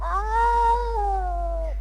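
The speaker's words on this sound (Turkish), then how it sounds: "bu da bir kedi sesi çocuklar biraz sinirlenmiş ama" An angry domestic cat gives one long, strained, wavering meow, loud and close, with no talk over it.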